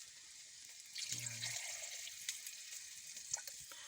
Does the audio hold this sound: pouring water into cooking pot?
yes